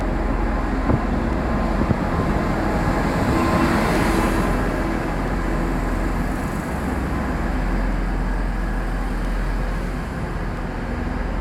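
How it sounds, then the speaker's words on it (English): TransPennine Express train pulling into Manchester Airport station, a steady broad rumble that swells slightly midway, with a faint whine and a couple of soft knocks, no voices. "Transpennine Express coming into airport."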